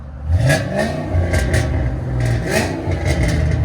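California Special GT Mustang with Flowmaster 40 mufflers revving: a loud, close, deep exhaust roar that swells and dips in throttle blips, with no talking.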